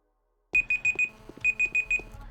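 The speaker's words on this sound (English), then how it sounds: "That's my timer." A timer alarm beeps in two bursts of four rapid electronic tones, each burst about a second long, loud and close over a quiet room.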